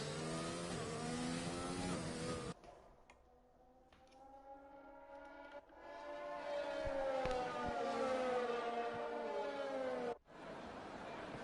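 F1 2020 video game racing cars on information laps at Abu Dhabi, engines whining at high pitch; one loud car cuts off abruptly, then a rising engine tone builds and holds before a sharp drop.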